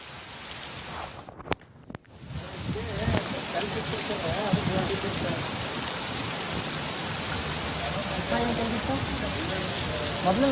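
Heavy rain pours steadily in Karnataka, a thick, even hiss of drops striking surfaces that settles in after a brief disturbance at the start and then continues unbroken to the end.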